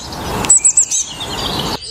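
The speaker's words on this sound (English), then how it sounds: "they bring joy and happiness with their cheerful song" Bluebirds give a cheerful song of several short, bright chirps in quick succession, close and clear over a soft background hiss.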